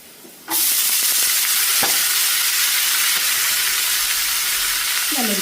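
Cooked beans hit a hot pan on a high flame and set off a sudden loud, sustained sizzle and hiss. A few scraping stirs sound beneath it.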